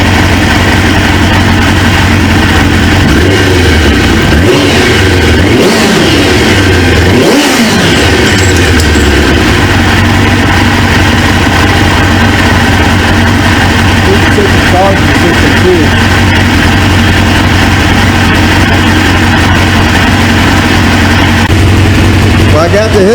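A 1999 Suzuki GSX-R 750 motorcycle, an abandoned bike being rebuilt, runs loud and close on its first start, its engine idling roughly and revving in swells, with a person talking faintly underneath.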